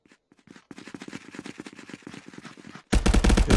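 Rapid bursts of gunfire from the VR shooter Contractors VR fill the stretch, a dense rattling volley of shots, then a much louder, harsher close-range burst erupts in the final half second.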